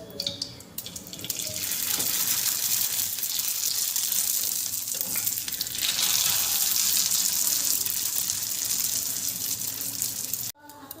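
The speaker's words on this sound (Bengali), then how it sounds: "এবার আমি তোমাদেরকে একটা ভেজে দেখিয়ে দেব ঠিক কেমন তৈরি হয়।" Papad, a thin rice-flour cracker, frying in hot oil, giving a loud, steady broadband hiss and sizzle that runs for about ten seconds and then cuts off abruptly.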